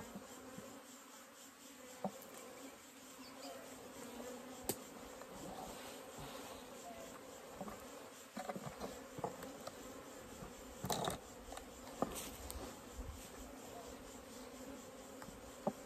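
Bees buzz in a steady, quiet drone around a hive outdoors, with a few sharper bursts as insects fly close by and faint handling noises in the background.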